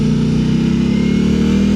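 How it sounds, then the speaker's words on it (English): Old motorcycles pass on a mountain road near a hairpin, a steady loud engine drone with a low throbbing rumble sustained throughout, no voices. "There's a couple of bikers coming up. They're on old bikes."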